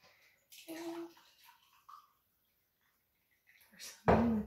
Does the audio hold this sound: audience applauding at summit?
no